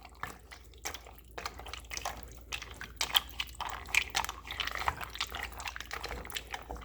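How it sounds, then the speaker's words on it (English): Water poured into a cooking pot, a cupful at a time, making soft irregular splashing and dripping at close range with no talking over it. "So I'm going to just at least add a cup of water."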